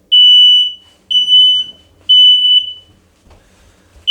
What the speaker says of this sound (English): we're going to see what she does when she hears a smoke alarm go off